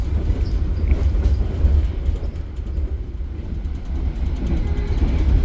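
Inside a Taksaka Luxury passenger train carriage running on rails, a continuous loud low rumble with rolling wheel noise and faint rhythmic clatter, steady throughout with no talking.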